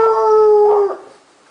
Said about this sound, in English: and a loud dog.